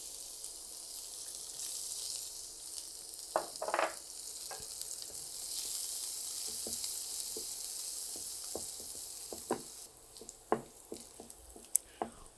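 Chopped garlic frying in butter sizzles with a constant bright hiss, quiet at first, then punctuated by a run of soft taps and stirring scrapes toward the end.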